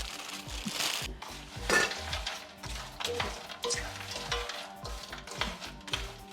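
A frozen snap pea, carrot and broccoli stir fry cooks in a pan, with a soft sizzle beneath repeated clinks and scrapes of a utensil moving the vegetables around.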